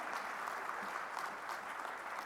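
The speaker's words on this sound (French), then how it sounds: "Je vous demande de l'applaudir très très fort" Sustained applause from an audience at a Côte d'Ivoire speech, honoring the woman who founded the Croix-Rouge there in 1993; steady, dense clapping at moderate distance, fairly soft, with no voices over it.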